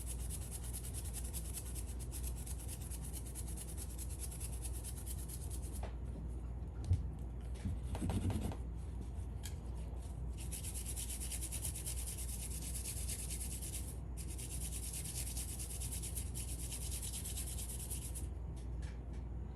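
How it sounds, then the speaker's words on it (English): A Scotch-Brite pad scrubs rust off a metal part from an Atari 7800 console, producing a continuous close abrasive rubbing under a steady background hum, with brief pauses and a small knock midway. "Take the Scotch-Brite, just kind of go over it a little bit,"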